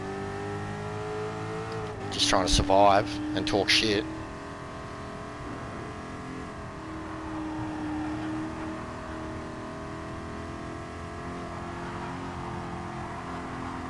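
A race car on the Nordschleife cruising at light throttle, its engine a steady, even drone that runs through the whole stretch beneath someone talking, with a brief louder burst of noise early on.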